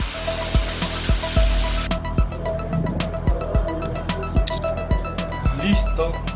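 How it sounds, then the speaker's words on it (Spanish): Running water rinsing a washed Christmas tree base, a steady rushing flow close by with repeated low thumps and handling knocks, no voices. "La última enjuagada."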